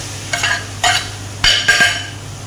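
Raisins and lentils stirred into frying onions in a pan, with a few separate scraping stir strokes and soft sizzle bursts against a low steady hum, close and moderately loud.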